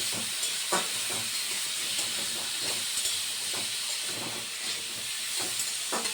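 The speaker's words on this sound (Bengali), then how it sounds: "নুন দিয়ে ভালো করে একটুখানি কষিয়ে নিচ্ছে" Pumpkin and potato curry frying with salt in a pan, a steady broad hiss of sizzling with scattered crackles running throughout, fairly close and continuous with no talking.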